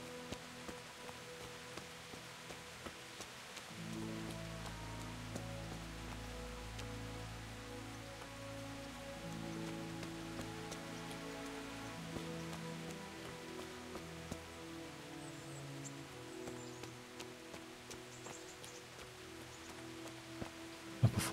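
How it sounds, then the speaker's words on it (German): Steady, soft rain patters continuously on surfaces in the video game Kingdom Come: Deliverance, a gentle even hiss with low tones humming underneath and no talking. "Wir müssen ein bisschen durch den Regen stapfen."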